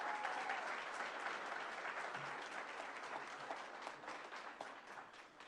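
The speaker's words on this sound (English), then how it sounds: "Everyone give Coach Schnellenberger a big round of applause." A crowd at a football coach's introduction event applauds for a guest coach, steady dense clapping from many hands, loud at first and slowly thinning toward the end, with no voices over it.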